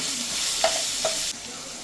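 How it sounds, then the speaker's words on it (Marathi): Mustard seeds and ginger-garlic paste frying in a pan make a steady, bright sizzle close by, with two soft stirring scrapes partway through and no talking. "थोडी मोहरी टाकू, अद्रक लसूण पेस्ट चांगलं मिक्स करून घेऊ."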